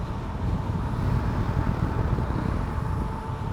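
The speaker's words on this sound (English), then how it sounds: "it's a little windy today" Steady low wind rumble buffets the microphone while riding outdoors on a warm day, a constant dense roar with no voices.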